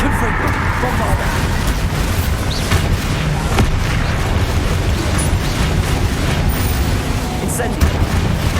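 Confringo and Bombarda spell explosions in the Hogwarts Legacy video game: a relentless stretch of low booming blasts and crackling bursts, several sharp impacts scattered through, with spoken voices running over the din.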